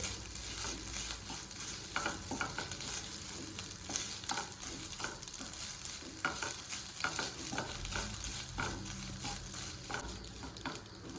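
Rice with grated coconut and salt is stirred in a hot pan, with repeated scraping strokes of a spoon over a soft background sizzle, fairly quiet and without speech.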